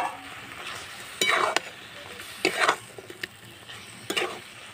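Chicken added to well-cooked spice masala in a pan for an oil-free chicken kosha, soft sizzling punctuated by several louder bursts as pieces are stirred and scraped with a utensil.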